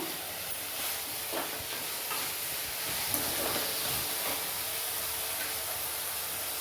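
Onions sauté in a pan for a Tirunelveli-style coconut-milk crab gravy, giving a steady, soft sizzling hiss close by with no talking.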